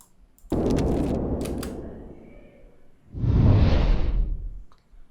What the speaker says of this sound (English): I'll play only the whooshes track and you'll come to know what I'm talking about.